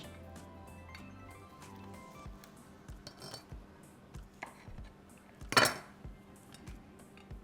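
A knife cuts through strawberry sweet roll dough and the rolls go into a greased baking dish, giving soft thuds, light clinks of metal on dish, and one sharper clatter midway, all close and quiet.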